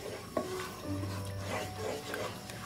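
Close, soft stirring and scraping of a masala paste mixed with cooking oil in a pan for chicken tinda gravy, with a light sizzle underneath and a brief low hum partway through.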